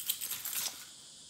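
Keys jangle briefly while work gear is gathered before installing Clubsport S parts on a MK7 GTI, a bright metallic rattle clustered in the first two-thirds of a second, then fading out, with no talking.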